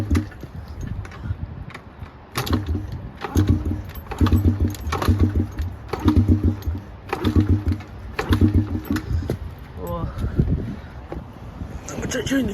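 A Honda CRF dirt bike with no throttle fitted being kicked or cranked repeatedly in attempts to start it, a series of rhythmic mechanical bursts with brief pauses between, close and moderately loud, with a few faint clanks.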